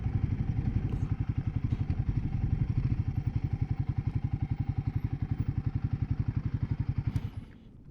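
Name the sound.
wind noise while riding motorcycle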